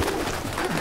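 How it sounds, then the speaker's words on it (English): Pigeons coo in Detroit: Become Human, a soft, close, continuous murmuring burble filling the brief moment with no voices over it. "Those are pigeons."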